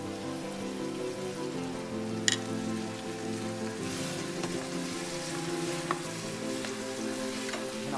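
Ginger garlic paste frying in hot oil with bay leaves, cinnamon, cloves and cardamom: a steady, close sizzle and crackle with a few sharp pops, no talk.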